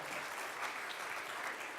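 A community talent show audience applauds steadily, a dense, even patter of many hands clapping, fairly soft and continuous with no voices over it.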